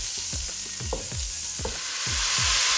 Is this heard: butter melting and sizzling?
yes